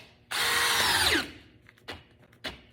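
A Milwaukee drill set to drill mode drives a screw in one loud, close burst of about a second, its whine dropping in pitch as the motor slows under load, followed by two faint clicks.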